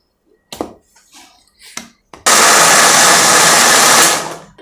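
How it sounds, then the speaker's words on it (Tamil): A mixer grinder whirs loudly and steadily for about two seconds as it grinds raw mango adai batter, after a few brief clattering knocks and faint sounds. "எல்லாமே போட்டு அரைச்சிடுறோம்"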